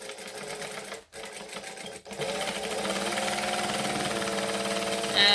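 Sewing machine stitching along a seam near bag straps, starting with short bursts broken by two brief pauses, then settling into a loud, steady continuous whir that speeds up slightly at the very end.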